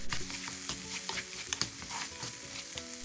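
Ground meat fries over high heat in a pan with a loud, dense sizzle, punctuated by scraping stirs and spatters throughout.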